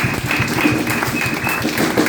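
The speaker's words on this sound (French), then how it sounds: "Acclamons très fort pour le Seigneur." A church congregation claps and applauds in praise at a worship service, steady dense applause filling the space, loud and continuous throughout.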